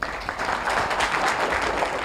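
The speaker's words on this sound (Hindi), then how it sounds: "इनके लिए तालियां हो जाए।" A crowd of listeners applauds an Olympic javelin thrower, Neeraj Chopra, with dense, steady clapping that holds at an even level for about two seconds without speech.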